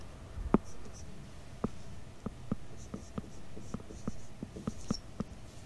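Chalk or marker strokes on a board while working out a math problem, a steady series of short scratchy taps and squeaks, close and moderately quiet over a faint background hiss.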